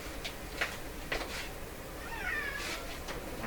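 Cats meow a few times in a house during electronics repair work, short faint calls spaced across the moment over a steady low room hiss.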